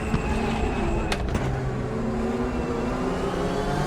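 A Group 5 race car engine on the Bathurst circuit in the Raceroom racing game, a loud sustained mechanical drone with steady tones and brief sharp transients, close up.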